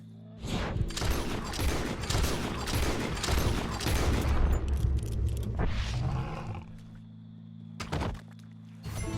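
Loud gunshots fired at the legendary lion in Red Dead Redemption 2, a cluster of close, heavy shots mixed with the big cat's deep roaring, then a quieter stretch broken by another sharp thud.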